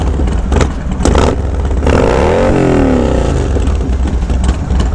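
A Harley Dyna motorcycle engine, just started at a group ride, revs hard up and down close by, loud throaty rumble with a rising and falling sweep and rattly clatter, no talking.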